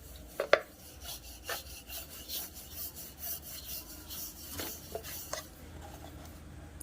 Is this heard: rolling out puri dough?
yes